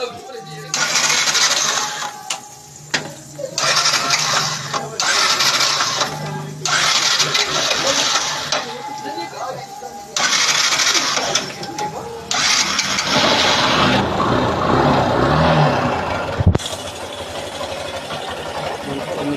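A motorcycle engine cranks in several bursts, then catches and keeps running at a steady idle, with people talking over it.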